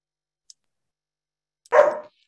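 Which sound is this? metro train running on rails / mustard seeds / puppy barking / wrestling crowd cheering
puppy barking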